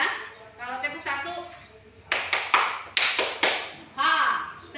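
Someone speaks, then five sharp hand claps ring out in a quick uneven run before her voice returns.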